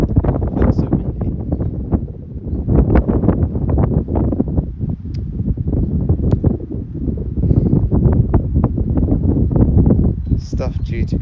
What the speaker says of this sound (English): Feels so windy.